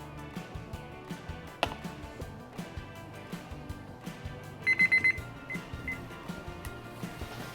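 A grill timer alarm on a Weber grill beeps in a quick burst of four short, bright tones, alone over quiet background noise.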